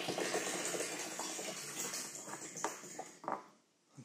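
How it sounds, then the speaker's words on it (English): Water pours from a pump into a water tank barrel with a continuous splashing rush and a few sharper splashes, close by, then fades near the end. "So I hear a lot more water flow actually."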